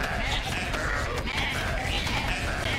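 Summoned goats in the Goat Simulator 3 video game, a chorus of repeated bleats rising and falling over a steady dense game background, moderately loud throughout.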